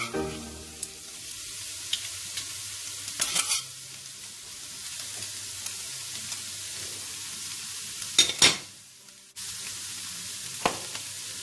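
Garlic sizzles steadily in a hot frying pan beside prawns, a close constant hiss broken by a couple of sharper stirring scrapes and crackles, with no talking.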